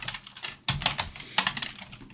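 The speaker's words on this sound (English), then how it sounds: "hearing my keyboard is like listening to the rain" Rapid typing on a computer keyboard, close and clear, in uneven bursts of clicking keystrokes with a brief pause partway through, no voices.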